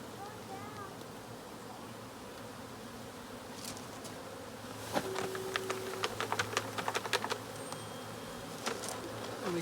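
Honeybees buzz in a steady drone during a tree cut-out, joined midway by a run of sharp tapping and knocking close by.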